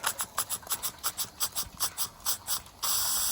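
A Cotswold Heritage Cirrus model beam engine turning slowly on steam, giving an even run of about fourteen soft rhythmic chuffs close by, then a steady hiss of escaping steam takes over.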